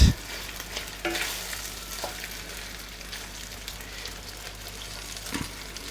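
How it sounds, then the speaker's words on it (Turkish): Butter sizzles steadily in a pot over low heat with a soft, even crackle, a few light clinks of a spoon now and then, no voices. "Evet şu anda tereyağımız eridi."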